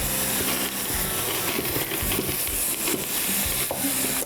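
Extra-lean ground beef fries in a pan with a steady close sizzle and hiss, broken by soft scraping and stirring knocks as the meat is moved around, with no one talking.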